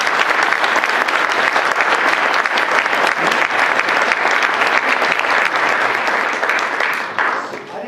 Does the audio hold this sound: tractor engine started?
no